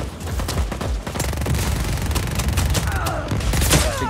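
Rapid gunfire and explosions in the open-world action game Just Cause 4, a dense continuous burst of loud automatic shots with booming blasts mixed in, filling the whole stretch without talk.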